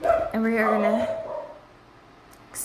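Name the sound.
dog barking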